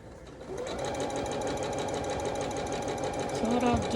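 A sewing machine runs continuously, up close and loud, stitching binding onto a quilted Calico Snails table runner, with a person talking over the steady hum.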